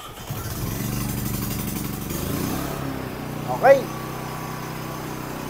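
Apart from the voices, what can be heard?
3,200-watt push-button start generator running during testing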